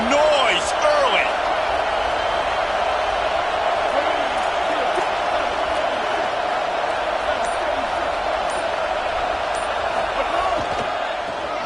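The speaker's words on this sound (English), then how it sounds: "This crowd bringing the energy and noise early." A football stadium crowd at an NC State versus BYU game roars loudly and steadily, with cheers and whoops rising throughout.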